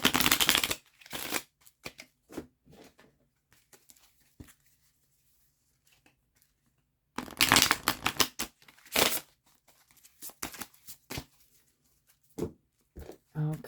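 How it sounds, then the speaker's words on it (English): Tarot cards being shuffled in bursts of crisp riffling and flapping, two longer rounds separated by quiet pauses and a few soft taps, close and clear. "let me shuffle these up a bit."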